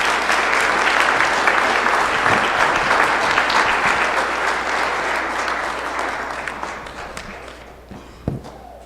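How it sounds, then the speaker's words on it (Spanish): A church congregation at Christmas Eve Mass applauds the Christmas wreath, steady dense clapping filling the space for several seconds before tapering off, with a few stray claps at the end. "Un aplauso a nuestra corona de Navidad."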